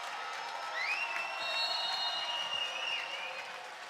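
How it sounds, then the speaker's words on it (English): Crowd noise fills the gym at a high school homecoming basketball game, a steady roar of cheering and applause with a couple of squeaking shoe sounds rising over it. "And the crowd's getting into it, the Kill Crew especially."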